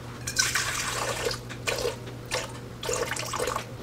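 Warm tap water running from a kitchen faucet into a container for sourdough dough, a close, steady splashing trickle with slight surges and a low hum underneath, no talk.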